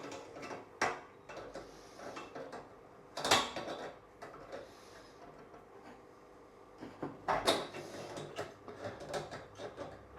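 Needle nose pliers working on a pressurized water purification system fitting, producing close, quiet metallic clicks, scrapes and ratcheting handling noises in irregular bursts.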